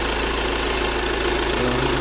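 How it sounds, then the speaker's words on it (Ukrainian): Steady loud drone of a Volkswagen Passat 2.0 TDI diesel engine at idle, the car with an EGR fault code P0403, a dense continuous hum with a faint knocking texture, close and unbroken with no talk. "Двигун став плавніше працювати."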